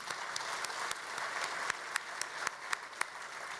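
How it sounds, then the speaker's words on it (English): Quiet audience applause at an Atlanta Habitat for Humanity welcome event, a soft, distant wash of clapping with a few sharper individual claps standing out near the end. "please give yourselves a round of applause"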